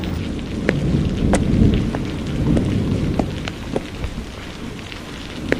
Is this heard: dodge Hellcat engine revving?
no